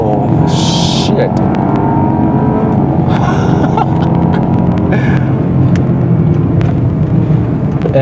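An Audi Q5 in sport mode drives hard and downshifts, its engine roaring and rumbling loudly close up with brief surges and a couple of sharp high bursts as people talk over it.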